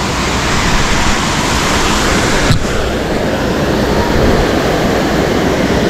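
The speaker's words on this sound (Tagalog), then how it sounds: "Ito na nga yung pinakang falls ng Kilangin." Kilangin Falls roars as a loud, steady broadband rush of falling water, close and unbroken throughout.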